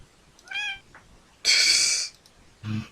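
A house cat meows three separate times, the middle cry longest and loudest, with quiet gaps between calls and no talking over it.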